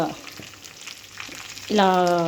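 Curry leaves crackle and sizzle in hot oil in a pan, then a sudden loud bright frying hiss takes over near the end.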